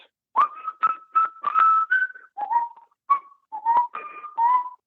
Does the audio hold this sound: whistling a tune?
yes